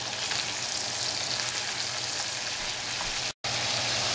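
Bean sprouts hit a hot wok of fried rice, giving a steady loud sizzle and crackle of frying that runs unbroken except for a brief cut near the end.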